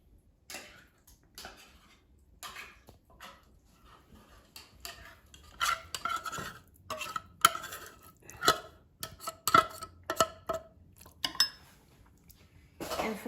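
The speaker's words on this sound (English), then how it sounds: "And now let's put tuna" Canned tuna being scraped and spooned into a bowl, a series of irregular quiet clicks, taps and soft metallic scrapes of utensil against can and dish, close and sparse.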